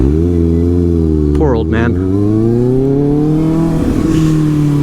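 A Kawasaki ZX6R with a LeoVince exhaust holds a loud, steady engine drone whose pitch climbs slowly, close and dominant. A short spoken phrase cuts through briefly over it.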